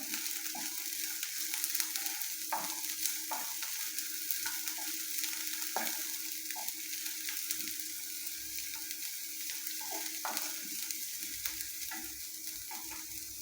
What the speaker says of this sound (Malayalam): ഒന്ന് ഇളക്കി വഴറ്റിയെടുക്കാം.